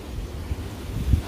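Strong wind buffeting the microphone in an open rice field area, a low continuous rumble with a few heavier gusts toward the end.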